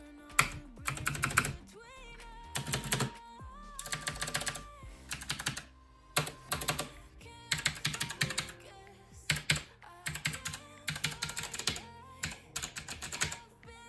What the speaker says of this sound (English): I'm just gonna press the enter or any other button and let's hear the sound.